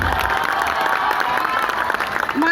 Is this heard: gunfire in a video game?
no